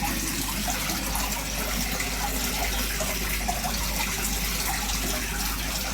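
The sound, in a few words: water flowing from koi pond bottom drain being cleaned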